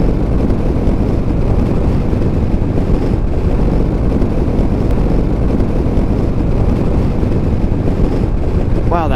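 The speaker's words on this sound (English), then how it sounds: "Wow, that wind is howling." Strong wind roars steadily past while descending a mountain road from about 6,000 feet toward Marble Canyon, a loud, unbroken rush that buffets the microphone.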